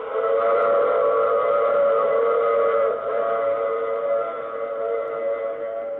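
A steady, loud train whistle or horn sounds continuously for several seconds, sustained and tonal without pause, likely from a passenger train.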